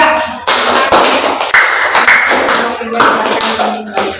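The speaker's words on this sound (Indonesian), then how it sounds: "Tepuk tangan untuk kelompok 3." Classroom students clapping for a group after its answer, a dense burst of hand claps starting after half a second and running steadily to the end, with faint voices mixed in.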